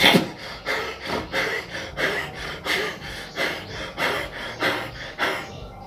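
A man demonstrating the self-induced trance of Jaranan kuda lumping (horse dance) breathes in heavy, rhythmic pants, about two sharp breaths per second, close and loud with no other sound.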